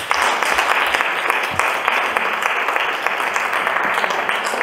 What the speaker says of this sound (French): Ça me ferait plaisir que vous applaudissiez Georges Brassens.